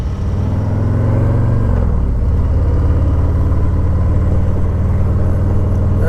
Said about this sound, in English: I have another motorcycle with the exact same mufflers on it, and this does sound better.